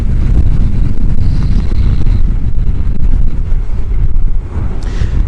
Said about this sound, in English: And the wind's picking up, so that front, that weather system that I've been keeping ahead of all this way is moving its way up